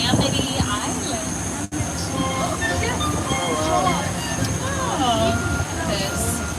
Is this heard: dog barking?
no